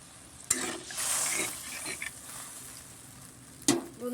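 A spiced curry with added water comes to a boil in a pan, meant for fried Roopchand fish and brinjal. Soft bubbling and sizzling hiss at low volume, broken by two sharp knocks of a utensil against the pan.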